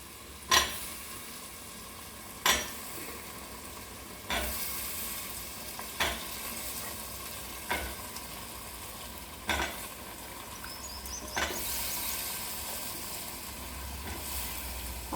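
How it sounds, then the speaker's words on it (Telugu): Cut potatoes tumbled into a hot curry pan with brinjal and dry fish to follow: a steady sizzle broken by regular sharp stirring scrapes about every two seconds, close by and with no voices. "ఇప్పుడు మనము ఆలు కట్ చేసి పెట్టుకున్నాం కదండి, ఇవి దీంట్లోకి వేసేసుకుందాం."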